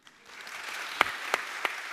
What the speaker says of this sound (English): Applause, man.